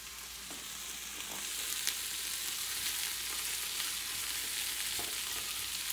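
Mushrooms and broccoli sizzle in a crowded pan alongside chouriço, a steady close hiss swelling slightly, with a few light clicks of tossing.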